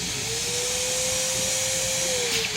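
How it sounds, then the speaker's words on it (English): A central vacuum system in a trailer runs with a steady, fairly quiet hissing whoosh and a faint constant whine, with no one speaking. "And the vacuum cleaner comes on."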